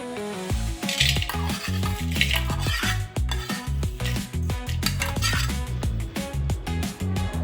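Cooled tempering for pachi pulusu added to a vessel and mixed by hand, producing a busy run of clinking, scraping and rustling sounds with irregular rhythm, close and fairly loud, with no talking.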